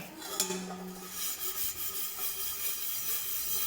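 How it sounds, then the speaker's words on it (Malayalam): Steady, faint abrasive rubbing of a scrubber working a toothpaste and vinegar paste over a metal vessel, a continuous scratchy scouring with slight rhythmic strokes and no talk. "ഇത് നമുക്ക് ഈ പാത്രത്തിലേക്ക് തേച്ച് കൊടുക്കാം. നമ്മുടെ ഈ സ്ക്രബ്ബർ വെച്ചിട്ട്"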